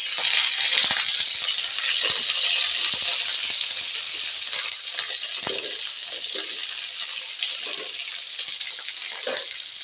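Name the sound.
garlic and curry leaves sizzling in hot oil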